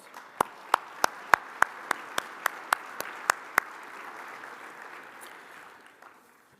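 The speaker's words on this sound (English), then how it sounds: "Let's give him a warm round of applause." A conference audience applauds a speaker's introduction while one set of hands claps sharply and evenly about a dozen times, then the applause gradually fades away.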